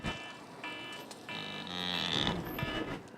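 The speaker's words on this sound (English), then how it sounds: "there's an alarm going off" An electronic alarm sounds in bursts, a harsh buzzing tone that starts, cuts out and returns louder, fairly close, with a low rumble beneath.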